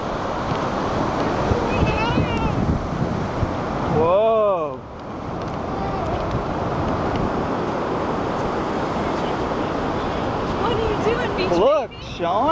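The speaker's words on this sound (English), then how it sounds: "Look, Sean, look at the water coming up." Waves wash and roar steadily against the shore amid gusty wind noise, with a few brief voices and chirpy sounds cutting through.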